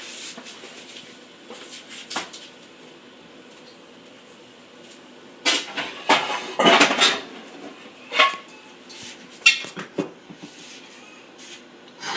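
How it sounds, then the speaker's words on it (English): Clattering of a non-stick pan being taken out in a home kitchen, with several sharp metallic clanks and scrapes of cookware, fairly close, in bursts around the middle of the clip and no talk. "I'm going to take a non-stick pan"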